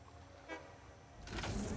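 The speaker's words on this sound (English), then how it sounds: "Honk." A vehicle horn in the factory game Satisfactory gives a couple of brief, faint honks, the second one longer, against a quiet mechanical background.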